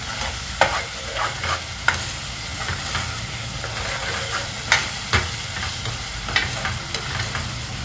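Hot oil spits and sizzles steadily in a pan while cooking chana masala for chole bhature, with sharp crackling pops breaking through a constant frying hiss; no voices.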